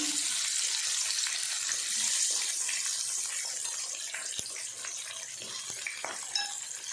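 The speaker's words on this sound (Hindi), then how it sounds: "ये हमने तकरीबन 1 कप जितना ऑयल डाल दिया है ताकि हम इसको मछली को फ्राई करेंगे" Fish pieces dropped one by one into about a cup of hot oil, giving a steady bubbling fry hiss throughout with a few small clicks and pops, fairly faint and with no talking.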